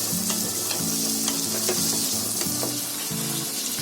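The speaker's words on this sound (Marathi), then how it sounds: "इकडे आपला पास्ता पण शिजतोय आणि इकडे आपल्या भाज्या पण फ्राय होतात आहे" Vegetables fry in a pan for masala pasta, a bright, steady sizzle with occasional light clicks of stirring, accompanied by soft background music.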